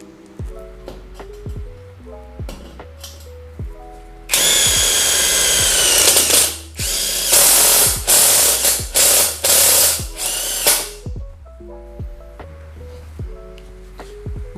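A Nagawa NID213K impact driver runs at its second speed setting, giving a loud, steady mechanical whir with rapid impact hammering, in several bursts separated by short pauses, with quieter clicks and taps between them.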